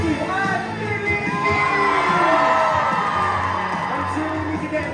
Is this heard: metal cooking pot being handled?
no